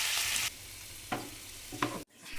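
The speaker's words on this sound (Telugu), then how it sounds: "మొత్తం ఈ 4 నేతిలో వేపుకొని పేస్ట్ చేసుకోవాలి" Fresh coriander, mint and green chillies fry in ghee with a close, steady sizzle. Two short scraping stirs of a spoon in the pan sound partway through, and a brief pause comes near the end.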